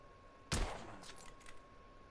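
A single gunshot fired in the video game The Order: 1886: one sharp, loud crack with a short fading tail, followed by quiet background, no voices.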